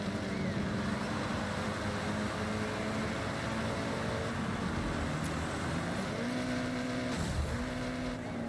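A Mitsubishi Evo races in the Forza Horizon video game, its engine droning steadily with rising and falling revs and a sharper surge near the end, under a dense wash of game noise.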